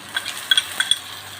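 Homemade tomato paste stirred into a pot of sizzling garlic-ginger paste for chana dal, soft frying crackle under several light metallic clinks of a spoon against the pot.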